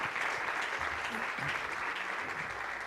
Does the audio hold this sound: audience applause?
yes